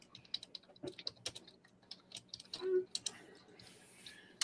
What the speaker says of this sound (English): Now you got the old man typing in his Commodore 64 trying to get the facts